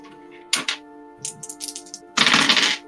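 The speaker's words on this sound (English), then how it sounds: "It sounds like loads of dice." Several handfuls of dice rattle and clatter across a surface in three separate bursts, the last one longest and loudest, over a steady low background hum.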